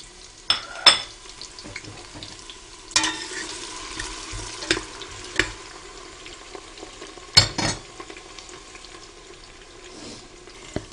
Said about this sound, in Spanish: Bueno, echamos la cebolla que teníamos, ¿eh? Y esperamos que se ponga